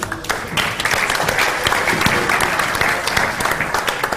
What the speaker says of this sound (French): On peut applaudir, on peut applaudir